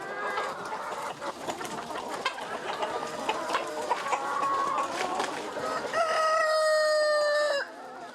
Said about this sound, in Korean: 닭을 방목하는 시간입니다.